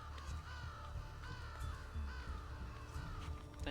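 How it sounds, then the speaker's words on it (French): Crows cawing in the video game Assassin's Creed Brotherhood, several harsh repeated caws over a steady game ambience, moderately loud and continuous. "il y a des corbeaux"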